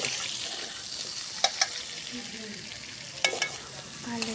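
Onions chopped for a spiced curry fry with a steady broadband sizzle in a pan, and a few sharp scraping clinks of stirring come through near the start and toward the end.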